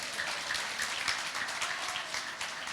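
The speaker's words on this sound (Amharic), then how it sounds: "እስቲ እልልታ ጭብጨባ ለጌታ ክብር።" A church congregation claps in a dense, steady wash of applause, with faint high ululating trills woven through it.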